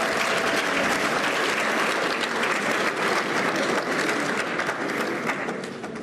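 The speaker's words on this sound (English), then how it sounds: "Round of applause." Sustained applause from a large audience at a cabinet swearing-in ceremony, steady and dense for the whole stretch, tapering slightly at the very end, with no talk over it.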